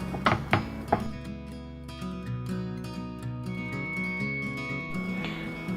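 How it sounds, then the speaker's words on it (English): A knife slices through bottle gourd with a few crisp cutting thuds near the start, over a steady tonal hum of background music, close and moderately loud with no talking. "So now I'm just cutting this into slices."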